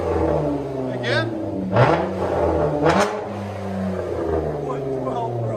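A Chrysler 200 with a 3.6L V6 and a straight pipe exhaust revs up and drops back several times. It sounds loud and close, with a raspy tone rising and falling over a steady idle.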